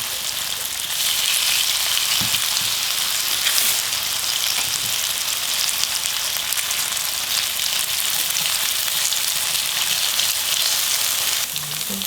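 Shredded potato pancake sizzles in an oiled pan, a steady, dense frying crackle holding close and even throughout with a few faint clinks.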